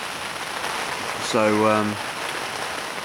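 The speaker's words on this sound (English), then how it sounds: "Absolutely pelting down with rain, and I think has been for a good half an hour." Heavy rain pelts down at a fishing lake, a dense, steady hiss throughout, with someone briefly speaking over it near the middle.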